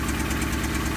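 A 2001 Honda Civic LX sedan engine runs loud and close with an abnormal noise, a rapid even knocking pulse over a heavy low drone, steady throughout with no talking.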